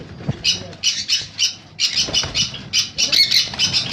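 Conures and cockatiels at a bird sale squawk loudly and close, with rapid harsh calls repeating in quick bursts and little pause between them.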